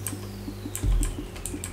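Typing on a Sades Damascus RGB aluminum gaming keyboard: a brisk run of sharp, close key clicks in an uneven rhythm, with one heavier thump partway through, no voices.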